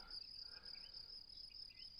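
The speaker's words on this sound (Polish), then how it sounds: "za to świerszcze ładnie cykają" Crickets chirp steadily outdoors, a continuous high, shrill trill that holds evenly throughout, moderately faint with no voices.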